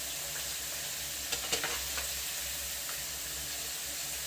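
Shredded cabbage fries in a pan with a steady, dense sizzle, close and even, with a few brief stirring scrapes partway through and no voices.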